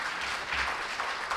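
An audience applauds students at a retail industry event, a dense, steady patter of many hands clapping close by, filling the short stretch without pause.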